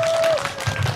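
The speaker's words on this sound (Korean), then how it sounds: "박수 한번 주시죠." Audience applause at a Korean Daeboreum village festival event in Miryang, broadband clapping sustained through the whole moment, with a held musical tone from the stage sound system and crowd noise mixed in.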